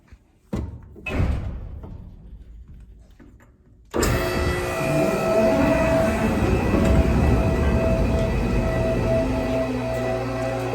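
A Snowblast 8600A snowblower bangs and clatters through a few sharp knocks, then starts up into a loud, steady mechanical roar that continues to the end.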